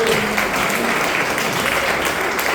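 A church congregation at a family worship service claps together in loud, dense, continuous applause filling the room, with voices mixed in.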